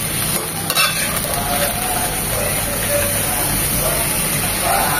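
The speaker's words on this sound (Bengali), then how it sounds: "প্রথমে অল্প দিয়ে নেড়ে চেড়ে মিশিয়ে নেব, যেন নিচে পেঁয়াজ আর রসুনটা উপরে উঠে আসে।" Chopped onion and garlic frying in a pan while being stirred, giving a loud, steady sizzle throughout with a faint scrape of the stirring utensil, close to the mic.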